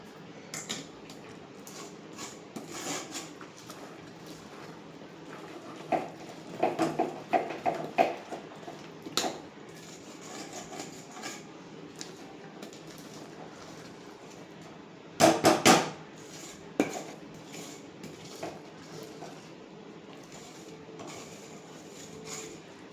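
Coconut burfi mixture is stirred in a pan, producing irregular scraping and knocking of a utensil against the pan, with brief louder clattering bursts between quieter stretches; close and fairly faint, with no talking.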